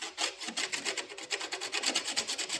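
Residual silicone is wiped and rubbed off a window in quick, rhythmic back-and-forth scrubbing strokes, close up and fairly quiet, with no voices.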